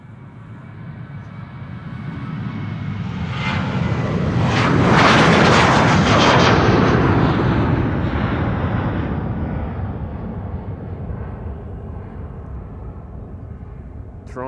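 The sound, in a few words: Transavia jet aircraft engines moving at Schiphol Airport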